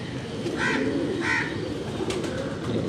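Pigeons coo on a Karachi rooftop loft, two soft rolling coos close by over a murmur of background noise, followed by a brief sharper call.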